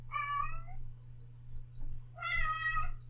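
A cat meows twice, separated by a short pause, close and fairly quiet, over a low steady hum.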